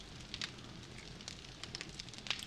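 Campfire burning in the video game 7 Days to Die, a steady soft crackle with scattered sharp pops over a low rumbling bed, close and moderately quiet, no voices.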